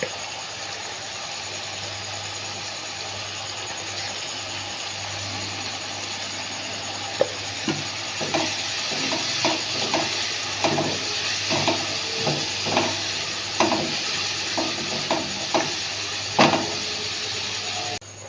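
Spices and turmeric powder frying in a pan give off a steady hiss, joined in the second half by a run of irregular scraping taps from stirring.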